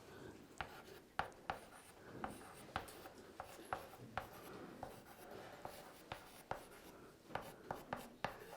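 Marker or chalk strokes on a board during a chemistry lesson on noble gases, with a steady series of faint scratches and taps in an irregular rhythm, heard alone in a quiet room.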